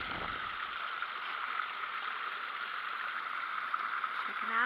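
A clear, crystal-clear forest stream runs among moss and rhododendrons beside a waterfall on the Michaux ATV Trail, giving a steady, soft, even rush of flowing water with no break or change.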